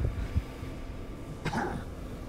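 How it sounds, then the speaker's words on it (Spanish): A character in the video game Guacamelee 2 gives a single brief, rough cough over a faint, steady background hum, with no talking. "ya regresó su tos"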